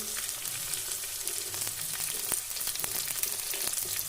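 Onion, garlic and chili frying in a pan for a green gram thoran, a close, continuous sizzle with sharp crackles and pops scattered throughout, without speech.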